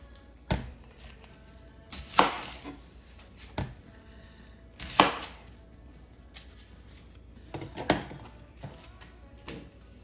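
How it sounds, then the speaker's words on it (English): Vegetables for roasted salsa being cut on a board, sparse sharp knife chops and thuds at irregular intervals with quiet gaps between, close and fairly loud, no talking. "I'm just going to cut them up so they can get the roasted flavor of the oven."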